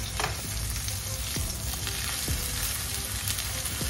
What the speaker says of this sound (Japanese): こんがりと焼いていきます。